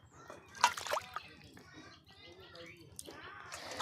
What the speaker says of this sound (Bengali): মাছগুলো ধুয়ে নিচ্ছি